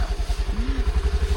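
A motorcycle engine idles close by with a steady, throbbing low pulse, stopping outside a chicken shop.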